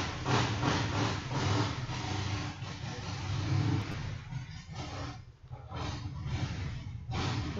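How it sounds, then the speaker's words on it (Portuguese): A loud motorcycle passes nearby outside a classroom, its rough, roaring engine rising and falling over several seconds, dipping briefly before surging again. "tem uma moto barulhenta passando aqui, gente."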